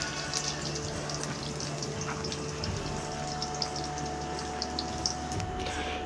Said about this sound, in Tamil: பாருங்க, நல்லா பொரிஞ்சிக்கிட்டு இருக்கு பூண்டு.